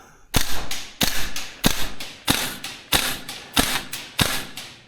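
A VFC URGI V3 gas blowback airsoft rifle fires seven slow, evenly spaced shots, each a sharp crack with a metallic bolt clatter, close and loud with nothing else heard.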